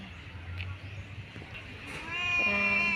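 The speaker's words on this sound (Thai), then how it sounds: "เจ้าของร้านไม่อยู่ ก็มีแมวเฝ้าร้านนะคะ" A cat at a plant shop in a Khon Kaen university agricultural market meows near the end, a clear drawn-out call after quieter ambient noise with faint, brief mews earlier.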